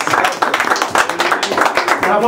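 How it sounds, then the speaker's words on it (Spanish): Guests at an interview clap for a visiting performer, with scattered, uneven handclaps mixed into loud nearby chatter and voices throughout. "El aplauso para el señor Fred Ventura, amigos"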